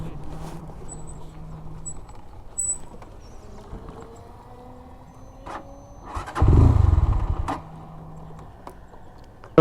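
A GPX Demon GR165RR motorcycle that has stalled is cranked back to life: a burst of starter and engine noise partway through, with faint background hum and traffic before and after.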